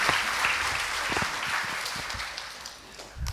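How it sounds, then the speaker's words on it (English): Audience applause greets a guest being welcomed at an anatomists' felicitation ceremony, a steady dense crowd clapping that holds loud and then tapers slightly near the end. "with a huge round of applause."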